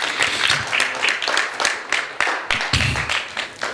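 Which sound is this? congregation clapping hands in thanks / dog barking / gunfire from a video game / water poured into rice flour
congregation clapping hands in thanks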